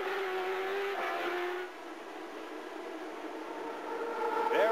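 CART open-wheel race cars at the 2003 Denver street race run past the Pepsi Center parking lots onto the backstretch, their engines a steady, fairly loud drone that dips briefly and then swells again toward the end.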